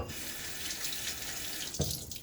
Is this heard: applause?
no